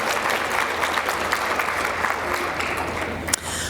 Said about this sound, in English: A round of applause for all of the recipients.